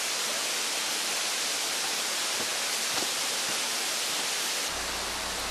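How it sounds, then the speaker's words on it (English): Small waterfall in a pocket of rainforest on a bush walk, a steady broadband rush of falling water that stays even and close throughout, with no talking. "A little pocket of rainforest and another little waterfall."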